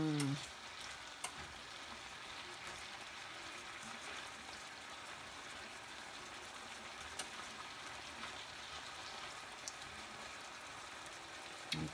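Shrimp fry in butter in a pan, giving a steady, even sizzle throughout, with a couple of faint clinks of a utensil turning the pieces.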